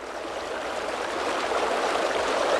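A steady, loud roar of rushing water and waterfall spray, a broad continuous hiss that holds evenly throughout with no voices.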